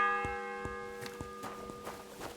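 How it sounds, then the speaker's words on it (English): A medieval church bell in Kingdom Come: Deliverance II tolls several times at a steady pace, its ringing tones sustained and layered over faint footsteps. "The bell's ringing for Hans the 5th time."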